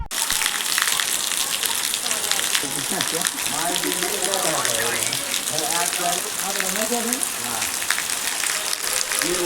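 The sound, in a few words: rain falling in a village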